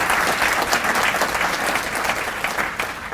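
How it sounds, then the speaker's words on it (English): Audience at a city's State of the City address in Paramount breaking into a big round of applause, loud, dense and sustained clapping from many hands, unbroken for the whole stretch. "So please, big round of applause, because that's what you have here in Paramount."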